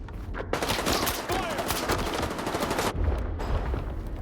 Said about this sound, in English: What is that dude shooting at?